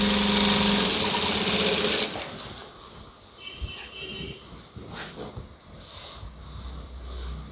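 A sewing machine stitches a blouse lining, running loud and steady at first, then dropping to a quieter, uneven whir with a few clicks.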